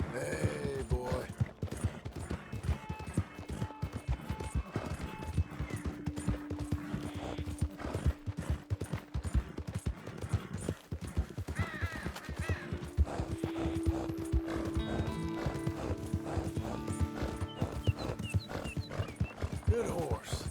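A horse in Red Dead Redemption 2 on PS5 trots with a steady, close clip-clop of hooves and gives several neighs and whinnies along the way, while a voice talks at times over the hoofbeats.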